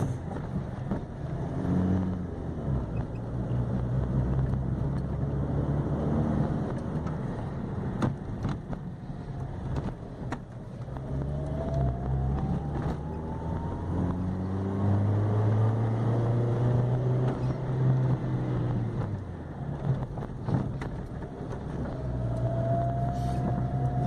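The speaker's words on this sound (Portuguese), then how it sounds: "tem que dar uma tirada de giro para o querosene penetrar mais" Car engine revved repeatedly while the fuel injector nozzles are cleaned with kerosene, a steady rumbling idle rising and falling through several rev sweeps, close by with no talking.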